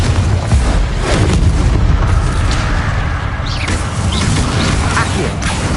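Confringo fire spell blasts in the Hogwarts Legacy video game, loud continuous booming roar with crackling bursts that fills the whole stretch, no pauses.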